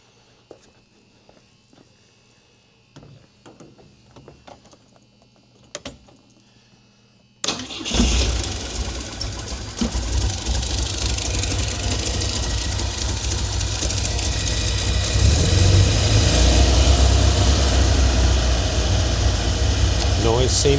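A Volvo 1800S engine catches after some quiet shuffling and clicks, then settles into a loud, steady idle that grows slightly fuller as it runs, with no hint of whine.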